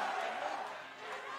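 A large esports arena crowd at the League of Legends Worlds 2022 group stage, EDG against T1, roars in a sustained wash of cheering and chatter over a brief moment.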